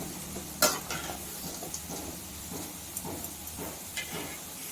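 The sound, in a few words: aloo kurkure potato snack frying in oil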